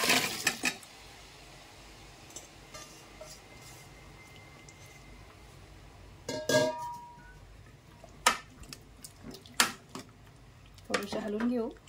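Boiled drumstick pods are tipped into a pan of masala with a clatter of vessel and spoon, wet squishing and dripping sounds, then a quiet stretch broken by scattered metallic clinks and scrapes.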